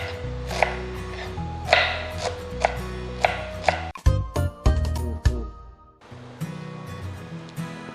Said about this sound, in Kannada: ಎಲೆಕೋಸು ಹೆಚ್ಚಿಟ್ಕೊಂಡಿದ್ದಾಯಿತು